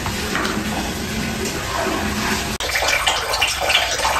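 Water poured into a cooking pan that already holds a little oil, a steady splashing pour filling most of the clip before cutting off abruptly and giving way to lighter trickling and sizzle-like hiss.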